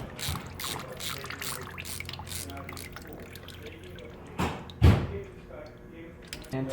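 Air and coolant bleeding out past the loosened top bolt of the water pump on a Yamaha R1M fitted with Samco hoses, a faint hiss and trickle with drips and a couple of knocks, under someone talking.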